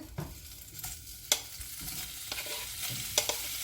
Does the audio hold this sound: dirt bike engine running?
no